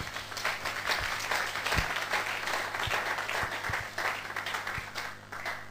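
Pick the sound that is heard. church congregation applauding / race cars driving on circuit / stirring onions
church congregation applauding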